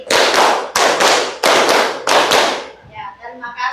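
A group claps in a counted pattern of one to four beats, the bursts loud and close in steady succession, then fades into faint voices afterward.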